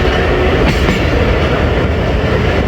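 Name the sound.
HBU20 locomotive train passing near Gujar Khan railway station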